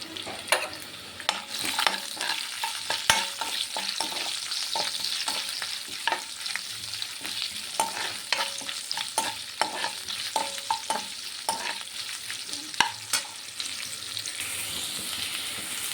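Onions and carrots frying and being stirred in a little oil in a home kitchen for Maggi noodles, with steady sizzling and frequent scraping, clinking stirs throughout, close and moderately loud.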